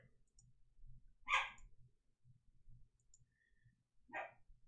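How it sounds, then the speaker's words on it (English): A dog barks twice, with a pause between the barks, over a low background murmur. "that dog has got to learn how to stay outside sometimes"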